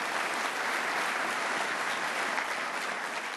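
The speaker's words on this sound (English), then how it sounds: "I want a nice round of applause for him." Crowd applause at a city's State of the City address, a thick, uniform wash of clapping from a large audience, steady and moderately loud for the whole stretch, with no speech.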